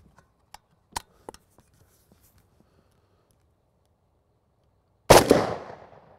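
A 7.62x39 rifle fires a single loud shot at an armored backpack target outdoors, the sharp blast followed by a decaying echo, after several faint ticks and clicks.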